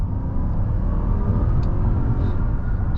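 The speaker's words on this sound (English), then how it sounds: "let's put it into second gear. Let's floor it slightly." A 2015 Mercedes-Benz S550 W222 sedan accelerates hard in second gear, a steady deep engine rumble and low drone heard from inside the cabin, continuous and fairly loud with no talking.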